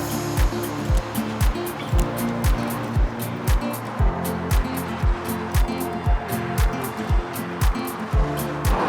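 Road traffic streams past on the Severn Bridge just beyond a low barrier, close and loud, with a steady rumble and a regular run of thudding beats as vehicles go by.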